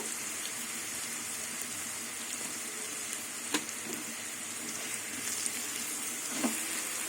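Steady sizzling of potatoes frying in a pan, with a couple of faint clinks of a utensil against the pan.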